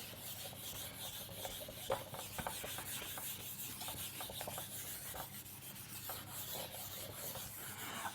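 Writing is rubbed off a board during a chemistry lesson, giving a faint, continuous scrubbing and rasping sound with small scratchy bursts, no talking.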